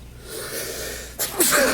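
A single sneeze in a room during a Talmud lecture: a short sharp burst followed by a second louder, breathy release a moment later, heard close over a faint steady background hum.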